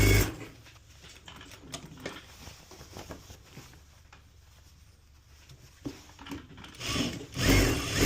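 A straight stitch sewing machine hems a pair of pants with a soft, steady mechanical whir. Brief handling bumps come near the start and a louder burst of fabric and machine noise comes at the end.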